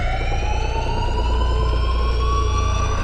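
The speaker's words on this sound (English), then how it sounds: "the only thing we, the audience, hear is a persistent alarm siren" A persistent alarm siren wails continuously and loudly in a film scene, its steady rising tones droning over a heavy low rumble without pause.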